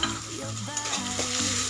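Onion with ginger garlic paste sautés in a pan for pav bhaji, giving a steady close sizzle with scraping stirs throughout and no talking.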